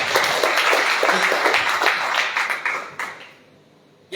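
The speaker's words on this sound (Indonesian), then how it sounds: "Yang setuju tepuk tangan bagi Allah kita." Church congregation applauding during a sermon, loud sustained clapping from a large crowd that thins out and fades near the end before a sudden new sound.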